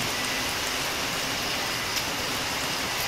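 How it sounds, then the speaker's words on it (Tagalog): Dense, steady hiss of heavy rain pouring down during a lightning storm, constant and enveloping with no voices. "Lakas ng ulan, guys."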